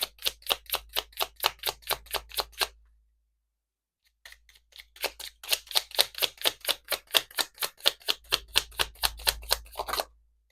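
Rapid, even swishes of tarot cards shuffled by hand, a short pause, then another long run of brisk strokes, close and clear with no talking.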